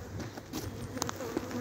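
Honey bees buzz around a row of beehives as the front hive releases a swarm, a steady close insect hum with a few louder passes, no talk.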